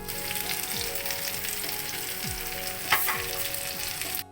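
Brinjal slices frying in oil on a tawa, a dense, even sizzle that holds steady close up, with a brief louder crackle near the end before it cuts off.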